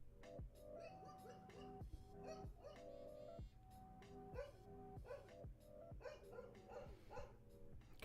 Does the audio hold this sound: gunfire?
no